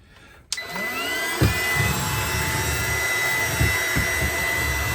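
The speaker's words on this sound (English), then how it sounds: "Do the best we can to vacuum up everything." A vacuum cleaner switches on after a brief quiet moment and runs with a steady, loud whine and roar inside a Brinkley 3610 RV, with a few bumps and knocks as it is moved around.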